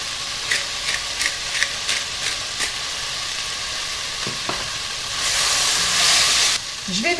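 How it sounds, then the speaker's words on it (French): Sausages brown in a pan over high heat, giving a steady sizzle with scraping stir strokes at first, then a louder, hissier burst near the end. "Je vais les faire revenir sur un feu assez vif pendant 5 minutes, tout en remuant régulièrement pour ne pas que ça brûle."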